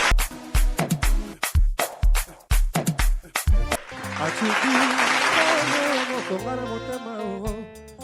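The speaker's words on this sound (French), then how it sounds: "Aussi vos applaudissements s'il vous plaît." Audience applause for a singer at a live music show begins midway as a dense wash of clapping, following a stretch of loud rhythmic music, with sustained tones continuing underneath.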